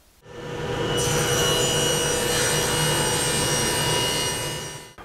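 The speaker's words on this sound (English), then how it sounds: "now I'm just going to start milling the rough parts out" Rough walnut lumber boards being milled into parts with a power woodworking machine, a loud continuous cutting roar that starts abruptly, holds steady for several seconds and stops with a short tail.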